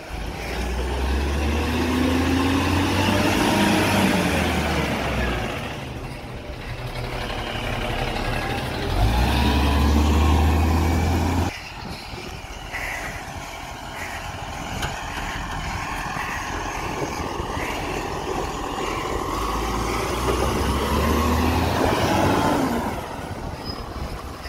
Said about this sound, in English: Trucks in this one small area.